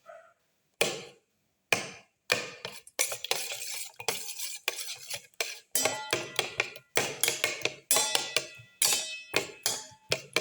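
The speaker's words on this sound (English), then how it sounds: "Crush the tomato pieces while mixing." A spoon clatters and scrapes against a pan as tomato pieces are crushed and stirred, a rapid series of close metallic taps and scrapes in uneven bursts, with no talk.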